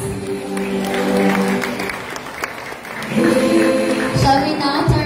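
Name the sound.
applause for Reyna Elena 2024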